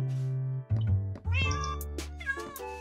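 Several meows from a Minecraft cat in a survival multiplayer server, arriving as distinct rising and falling cries over steady game background music, loud and close, with no talking.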